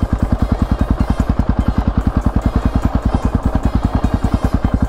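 KTM 500 EXC-F dirt bike engine chugging in third gear at low speed, a loud, close, rapid regular thumping exhaust beat held steady throughout.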